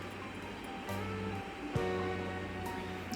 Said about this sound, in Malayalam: പിന്നെ നല്ലെണ്ണ ഒഴിച്ചു കൊടുത്തതിൻ്റെ ശേഷമാണ് ഞാൻ ഫിഷ് ഫ്രൈ ചെയ്യണത്